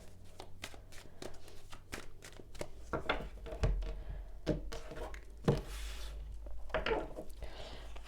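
Tarot cards shuffled by hand for a Libra monthly reading, a rapid run of crisp riffling snaps and soft slaps up close, with a few heavier thumps as the deck is squared, and no talking.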